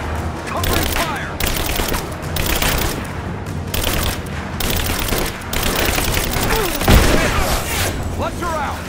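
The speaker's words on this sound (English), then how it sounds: "Covering fire!" Sustained covering gunfire in a video game, dense bursts of automatic shots with booms, loud and continuous, while voices shout over the firing.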